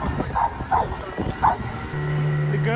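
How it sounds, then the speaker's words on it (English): Two dogs aboard a big wooden sailboat give a few short yips and whimpering barks, close by and moderately loud over a background hum. "and it's just Jesse and me on this boat, and the two dogs"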